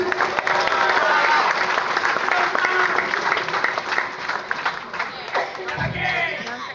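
A crowd at an UMNO Gombak gathering applauds the master of ceremonies steadily, dense clapping filling the room throughout, with a voice breaking in near the end as the clapping fades slightly.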